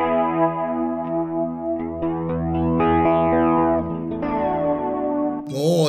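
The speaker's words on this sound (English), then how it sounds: "This next one is the stereo flanger." A Sony HR-GP5 effects unit's stereo flanger sweeps over sustained, bright tones, producing a swirling, jet-like whoosh and shifting pitch combs, ending in a sudden warbling, watery burst.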